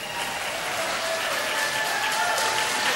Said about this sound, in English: If you can hear above the applause there.